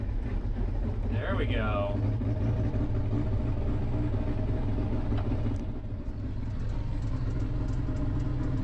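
A UniSystem engine cranks steadily with a low, constant rumble and chugging, struggling toward a start, while someone speaks briefly over the noise.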